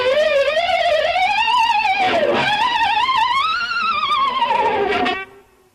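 Electric guitar harmonics bent down and up with a whammy bar and wiggled, a loud, wavering squealing tone that swoops and warbles continuously for about five seconds before fading quickly.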